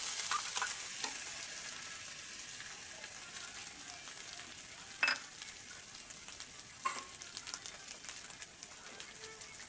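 Spice masala for a fish curry with cauliflower fries softly in a pan, giving a faint, steady sizzle. A few sharp stirring clinks and scrapes stand out now and then.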